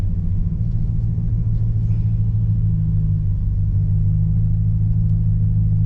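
A 1996 Dodge Ram pickup truck with a new clutch shudders as it moves off, giving a steady, loud low engine rumble that runs without a break throughout, with no talking over it.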